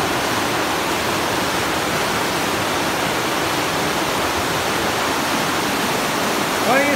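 Water rushes steadily through a deep stream inside Tytoona Cave in Pennsylvania, a loud, constant broadband roar filling the space, with a faint voice briefly at the end.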